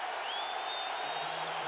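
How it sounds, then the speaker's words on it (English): A college basketball arena crowd cheers and applauds in a continuous roar with a whistle-like whoop rising through it, steady and fairly distant. "Listen to the crowd."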